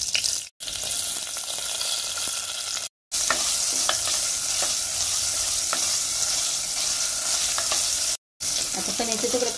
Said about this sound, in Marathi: इथे पनीरचे तुकडे आपण परतून घेऊया